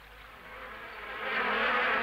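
A dense, droning buzz of a wasp swarm in a forest, swelling louder toward the end as the swarm seems to draw nearer.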